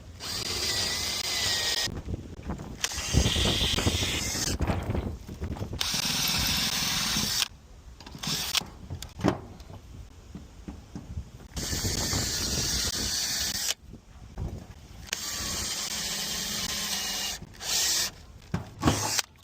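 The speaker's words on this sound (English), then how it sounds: "What we have to do now is drill out the pop rivets." A power drill whines in repeated bursts, starting and stopping several times as it drills out metal pop rivets on a roof, with brief quiet gaps between runs.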